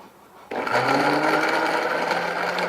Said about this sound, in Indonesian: Kemudian baru kita blender.